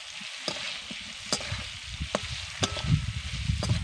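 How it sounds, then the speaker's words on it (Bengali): Turmeric, salt and chili powder being stirred into raw mango pieces in a pan: a soft background sizzle broken by irregular spatula scrapes and sharp clicks against the metal, close up and without talk. "এবার ভালো করে সব কিছু মিশিয়ে নেব।"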